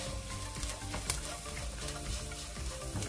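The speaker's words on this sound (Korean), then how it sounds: "마늘향이 올라오면 볶음용 중멸치 80g을 넣고 중불에서 함께 볶아줍니다." Medium anchovies and sliced garlic fry in cooking oil in a pan over medium heat, a faint steady sizzle with light crackles beneath quiet background music.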